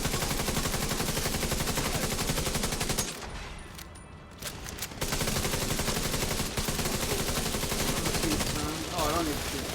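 Rapid video game gunfire from an end-game explosives build, dense and loud almost throughout, with a short lull in the middle before the firing resumes, speech mixed in underneath.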